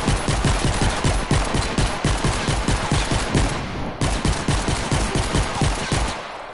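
Dual guns firing rapidly in Save the World gameplay, a loud, steady stream of close gunshots in fast rhythmic bursts with a brief break near the middle.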